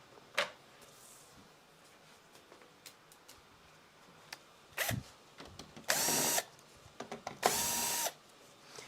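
Power drill unscrewing the back panel of a Vizio P502UI-B1E 4K TV, two loud sustained whirring bursts after a few scattered clicks and handling knocks, up close with no talking.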